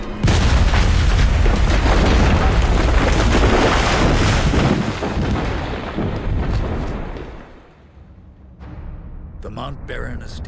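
Gunpowder kegs blowing up on a bridge in Dungeon Siege III give a loud, sustained roaring blast that slowly dies away. A voice comes in near the end.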